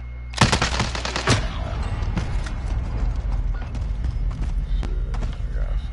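A sniper rifle shot in a PS4 video game cracks sharply near the start, followed by a burst of rapid gunfire and a steady clatter of further shots, with a player talking over the action.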